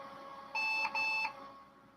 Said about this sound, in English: I didn't like that double beep.